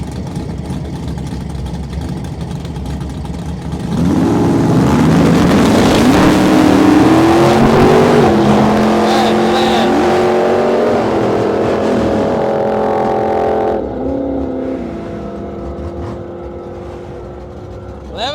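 A junkyard 454 Holden Monaro and a 427 Mustang launch in a drag race, loud engines roaring in with rising, shifting pitch for about ten seconds before fading away into the distance.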